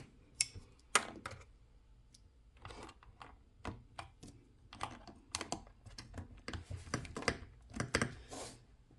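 Brisk typing on a YUNZII B75 Pro mechanical keyboard, close up, with irregular bursts of clicky keystrokes and short pauses between runs, no speech.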